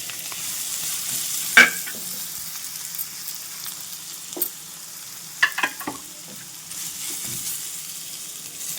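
Sweet potato stirs and fries in hot ghee with a soft continuous sizzle, broken by a few sharp scrapes of the spoon against the pan, close by and without speech.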